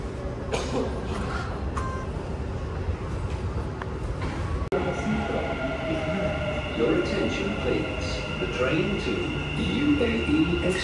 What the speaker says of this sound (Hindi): और ये हमारी मेट्रो भी आ गई